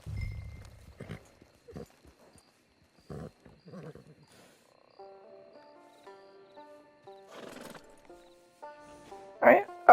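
A horse in the Red Dead Redemption 2 video game gives scattered snorts and hoof-like thumps between soft tonal game chimes, ending on a louder, breathy burst close by.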